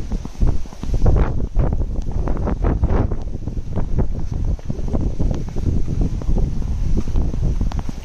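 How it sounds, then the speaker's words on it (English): Strong wind on a windy day in Mexico buffets the microphone in loud, continuous gusts with rumbling surges and rustling throughout. "wind is blowing."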